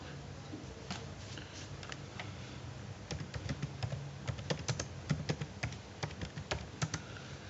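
Password keystrokes on a computer keyboard while configuring a Cisco router enable secret, a quiet irregular patter of clicks that grows busier and sharper toward the end over a low background hum.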